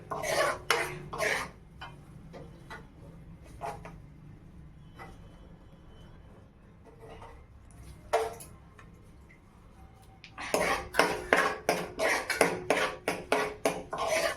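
Manchurian ingredients being mixed by hand in a bowl, irregular soft clicks and wet stirring taps, sparse at first then a quicker run of rhythmic strokes near the end, no talk.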